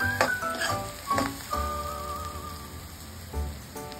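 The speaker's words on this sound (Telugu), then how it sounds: "కొంచెం ఆనియన్స్ ఫ్రై అయిన తర్వాత బెండకాయలు వేస్తున్నాము" Sliced okra sizzling with onions in a pan, a steady close crackle and hiss with a few louder bursts as the pieces go in and are stirred.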